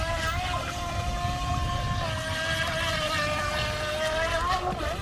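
A tiny UdiRC Ud1906 RC speedboat whines steadily across the water, its high, wavering motor tone constant and fairly near, with faint voices in the background.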